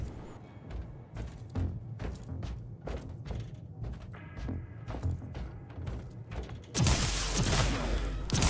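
Gunfire in the Warhammer 40,000: Inquisitor video game, a string of sharp separate shots and thuds at irregular intervals, then a loud sustained burst of blasts and noise over the final couple of seconds.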